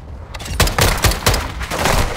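A video game artillery fire mission pounds out a rapid run of loud, booming impacts, about six heavy blasts in quick succession with little gap between them.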